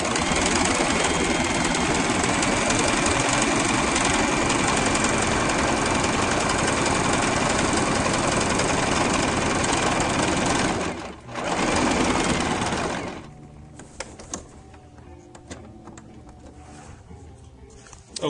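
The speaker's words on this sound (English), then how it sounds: "pin all the way down the edge with the right sides together and sew away" A sewing machine runs steadily and loud for about eleven seconds as it stitches sleeve seams with right sides pinned together, briefly pausing then stopping at thirteen seconds, leaving quiet handling noise.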